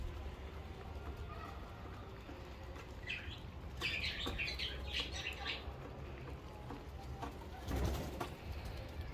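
Pigeons coo softly in the background, with a brief flutter of wings near the end, over steady outdoor ambience and no talking.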